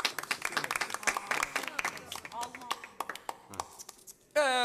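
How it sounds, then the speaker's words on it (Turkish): A small group claps for Toygar in a lively indoor scene, scattered hand claps running under excited talking and voices for several seconds before a sudden louder burst near the end. "Alkışlayın."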